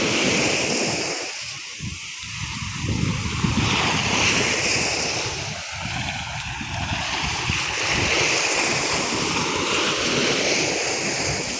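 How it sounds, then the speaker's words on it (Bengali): Sea waves breaking on a beach, a loud continuous surf roar with rolling swells and heavy wind buffeting the microphone, with no voices. "পানির আওয়াজটা কত সুন্দর লাগছে"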